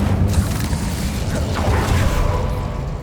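An Incendio fire spell cast in Hogwarts Legacy, a loud whooshing, crackling burst over a heavy low rumble with creaking mechanical textures, sustained for about three seconds.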